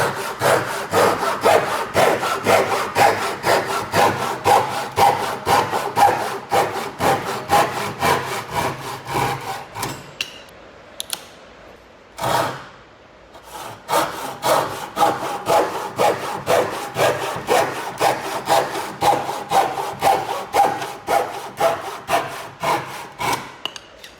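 A Suizan Japanese hand saw with a 240mm blade cuts through wood in quick, steady, rhythmic strokes that are close and loud. The sawing pauses briefly midway, then resumes at the same pace.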